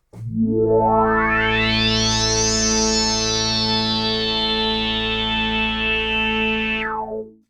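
An Arturia PolyBrute synthesizer patch using vintage voice modeling with temporal offsets, playing one loud sustained chord whose voices sweep upward in a swirling pitch glide, then hold and fall away at the end.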